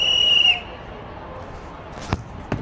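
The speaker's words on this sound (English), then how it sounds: "Listen for that whistle, Kevin." A single shrill whistle blast sounds as a signal to shoot, ringing for half a second before quiet room noise, then two sharp, isolated knocks about a half-second apart.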